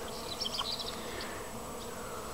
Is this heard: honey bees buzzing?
yes